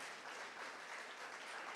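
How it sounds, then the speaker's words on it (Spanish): A church congregation applauds together in a faint, continuous ripple of clapping that lasts the whole short stretch, with no one speaking over it. "Damos un aplauso a Domingo en esta tarde."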